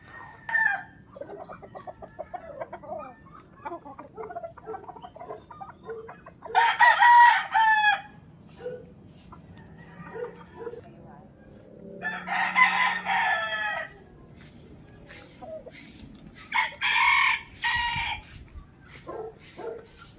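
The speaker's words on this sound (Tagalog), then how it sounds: "yan ang ating bagong manukan, munting manukan" Chickens clucking steadily in a small backyard coop while a rooster crows loudly three times, each crow a long harsh burst standing out against the softer clucks and faint farmyard background.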